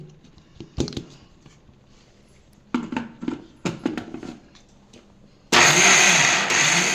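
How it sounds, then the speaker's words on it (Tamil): A mixer grinder coarsely grinds lentils for dosa batter, starting after several short clattering bursts and then running as a loud, steady whir until the end. "இப்போ பருப்பையும் அதே மாதிரி கொரகொரப்பாக அரைச்சிக்கணும்"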